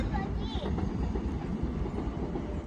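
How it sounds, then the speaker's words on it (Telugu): A train runs along a rail line in Seoul, South Korea, with a steady close rumble and light clattering of wheels throughout, no distinct voices standing out. "రెండు ట్రైన్లు పోతున్నాయి ఒకటి ఎట్లా ఒకటి ఎట్లా"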